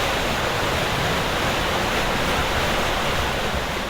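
Water rushing out of the discharge pipe of the Cristóbal Colón, a powerful dredger pumping sand, a dense, loud, continuous roar like a waterfall, close and unbroken for the whole stretch.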